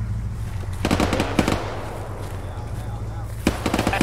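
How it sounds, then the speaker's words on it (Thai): Bursts of distant gunfire crack out from the hills on an ArmA 3 battlefield, a couple of short volleys early and another cluster near the end, over a steady low rumble of vehicle engine. "แต่ได้ยินปืนจากทางเขานะ"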